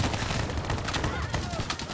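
Dense, steady gunfire in a four-player co-op campaign shooter, loud and close, with overlapping shots and faint voices in the mix.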